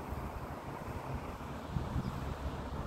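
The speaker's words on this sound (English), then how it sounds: "Oh, there's a good gust." Outdoor wind near a garage and bush, where a small wind turbine stands, blows as a continuous rough rumble of air across the microphone, with a slightly stronger gust midway.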